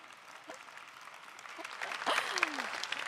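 Scattered, fairly faint applause from an audience at an indoor talk on nutrition and macronutrient processing, rising slightly toward the end with a few brief noises over the clapping.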